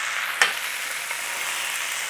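Beef pieces searing in a hot frying pan give a steady, close broadband sizzle throughout, with one brief louder spit or scrape near the start and no talking.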